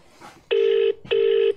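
A telephone rings twice, two loud electronic bursts of even pitch separated by a short gap, with faint voices before the first ring during a live competition draw.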